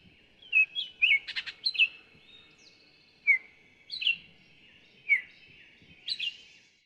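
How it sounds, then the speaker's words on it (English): Baltimore Oriole song, clear whistled phrases and chirps repeated in short bursts with pauses between them, close and crisp against a quiet background, with no voices. "First up, we have the Baltimore Oriole."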